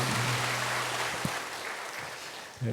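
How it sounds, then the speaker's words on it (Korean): A church congregation claps for one another during a Sunday worship service, a fairly faint wash of applause following a low sustained tone that fades out partway through. "서로에게 축복의 박수를 나누겠습니다."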